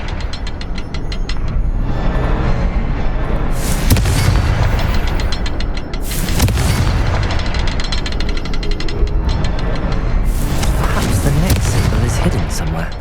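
Confringo fire spell explosions in Hogwarts Legacy burst repeatedly as loud booming blasts with crackling bright bursts over continuous game rumble, with a voice speaking in places.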